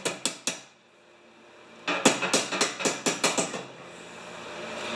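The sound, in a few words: ball peen hammer striking snow blower part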